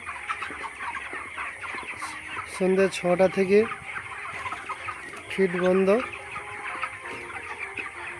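Broiler chickens cluck in short bursts on a poultry farm at night, over a steady background hum, with a brief spoken phrase nearby.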